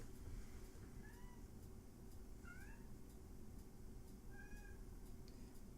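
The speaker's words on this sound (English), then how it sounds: "A lot of our cats pick up in recordings." A cat meows several times in the background of a recording: short, faint, drawn-out mews spaced a second or so apart over a steady, low hum, with no talking.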